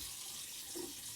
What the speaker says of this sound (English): I switch to cold water now. So now I got cold water going.